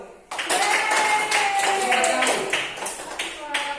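Students in a classroom clap in a short burst of close, slightly ragged hand claps that begins abruptly and fades toward the end, with a voice heard over it.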